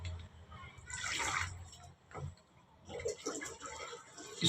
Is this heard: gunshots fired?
no